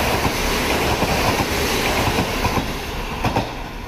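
A Rapid Mie passenger train runs past at a platform of Takachaya Station, a loud and close continuous roar with clattering wheel beats and faint squeal.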